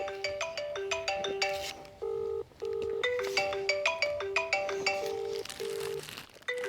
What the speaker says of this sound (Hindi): अब आपको एक बार रिंग बजा के दिखाते हैं।